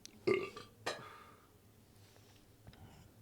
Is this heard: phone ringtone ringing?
no